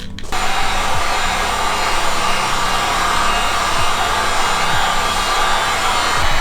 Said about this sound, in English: we've been heat gunning it for about 10 minutes now